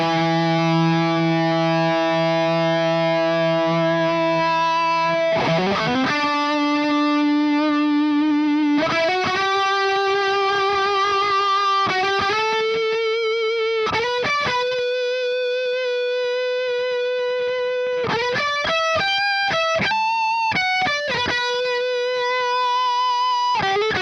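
Electric guitar run through a JHS drive pedal with a Boss Blues Driver boosting it, from a Boss JB-2 Angry Driver setup: sustained distorted chords and single notes, loud and saturated, changing pitch in steps with short picked bursts near the end.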